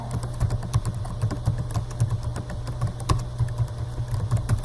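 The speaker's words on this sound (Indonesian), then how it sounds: "lalu saya ketikkan teksnya" Quick, fairly close keystrokes on a computer keyboard keep a steady, uneven patter over a low constant hum.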